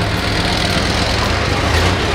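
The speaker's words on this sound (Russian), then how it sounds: "Вот как раз выезжает КамАЗ, который очень сильно громыхает." A KamAZ truck pulls out nearby, its heavy diesel engine rumbling loudly in a thick, steady roar that stays strong from start to finish.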